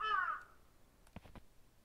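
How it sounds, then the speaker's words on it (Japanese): Crow cawing in a horror video game set in a haunted house, a few short harsh caws close together after a fading tone, faint and distant-sounding against a quiet dark background. "カラスの音だカラスの声だ"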